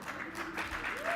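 Brief audience applause at a conference's welcome and opening remarks, a steady patter of clapping with a voice faintly underneath.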